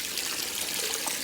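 Water trickling and pouring steadily into a home aquarium as guppies are tipped in from a net, a soft continuous splash without talk.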